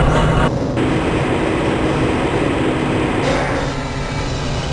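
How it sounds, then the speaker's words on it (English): A Black Mesa transit train from Half-Life: Blue Shift rolls along with a steady, loud, broadband rumble and hiss, alone and without talk. "This train is inbound from the Area 8 topside dormitories to the Central Transit Hub in Area 9."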